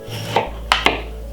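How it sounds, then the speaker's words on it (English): A knife chops a cucumber on a cutting board for a salad, giving three sharp, close knocks spaced unevenly, with a low steady hum underneath. "Just cut up the cucumber very small"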